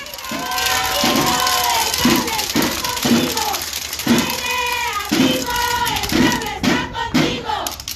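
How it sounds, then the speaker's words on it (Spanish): A large crowd at a political rally in a neighbourhood cheers and chants rhythmically while clapping, loud and close, with shouted voices rising and falling in repeated bursts. "recibamos con un fuerte aplauso a nuestro candidato, Jaime Silva Gil."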